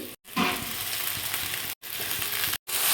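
Brinjal pieces hit browned onions in a hot pan with a loud, bright frying hiss that runs steadily, cut by a few short gaps.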